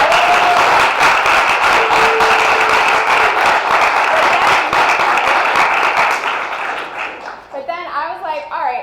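Loud, dense applause from an audience at a business presentation, steady rapid clapping across the room that fades after several seconds as a voice begins talking over the tail end.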